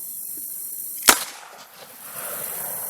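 A single sharp gunshot at an outdoor shooting range, loud and close, with a short decaying echo and steady background noise after it.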